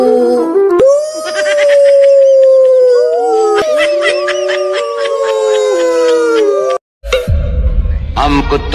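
A dog howls in long, wavering, rising and falling tones, loud and close, with a few sharp yelps between howls before a sudden cut to a burst of other noise.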